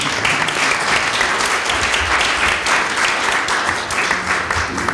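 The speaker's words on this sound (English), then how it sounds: "And we can applaud if you'd like." Audience at a United Dems candidates forum breaks into steady, dense applause, many hands clapping together at close range with no voices over it.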